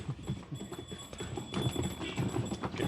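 A horse pulling a rekla cart away from a horse farm near Kattumannarkoil, toward the Veeranam lake shore, its hooves clip-clopping in a steady, close rhythm over continuous road and cart noise.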